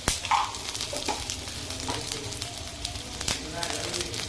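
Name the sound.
cumin sizzling in hot oil in a pan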